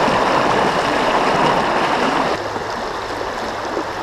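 Swift creek current rushes steadily around a person wading across a fast rainbow trout river, a loud, continuous broadband wash that eases slightly partway through.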